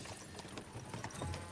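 Horses clip-clopping in Kingdom Come 2, a brisk, close run of hoofbeats on hard ground, loud and continuous with no speech.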